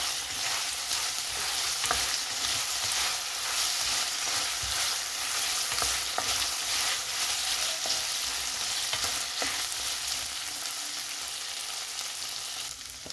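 Beef stirred with oyster sauce in a hot frying pan, a steady loud sizzle with scraping stir strokes throughout, no voices.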